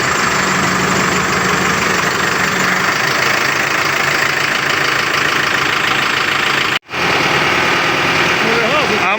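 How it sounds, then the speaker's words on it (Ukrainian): Hydraulic pump running on a Mercedes-Benz Atego 1317 tipper truck converted from a box body, heard as a steady loud mechanical whine over the idling diesel engine, continuous apart from one brief cutout. "Бо насос чути, що круте"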